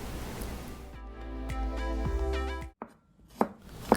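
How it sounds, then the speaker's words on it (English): A knife chops garlic and ginger into thick pieces on a board for a Hainanese chicken rice dipping sauce, with several sharp, close, evenly spaced cuts followed by a pause and a few softer knocks. "Cut into thick pieces."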